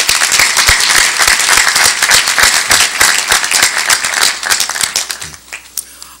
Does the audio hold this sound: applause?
yes